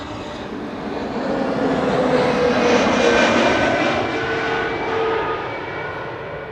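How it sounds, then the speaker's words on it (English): An EasyJet Airbus A320neo arriving at Amsterdam Schiphol from Palermo roars past, its engine noise swelling loud and broad, peaking mid-pass and then slowly fading, with no talk over it. "we are first going to get this EasyJet A320neo, which is arriving from PMO, and that's Palermo, Sicily"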